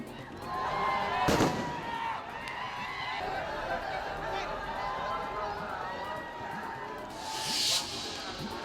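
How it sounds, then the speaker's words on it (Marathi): Firecrackers pop amid a noisy crowd at a victory celebration in Maharashtra, one sharp loud burst early followed by a hissing crackle near the end over general commotion. "काही ठिकाणी फटाके फोडत जल्लोष साजरा"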